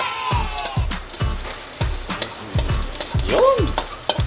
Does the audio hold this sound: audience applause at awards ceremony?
no